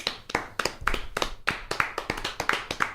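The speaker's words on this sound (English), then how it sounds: "Okay, David and I, we can clap." Two people clapping hands together in a radio studio, a slightly uneven series of about ten sharp, close claps at a quick, fairly steady pace.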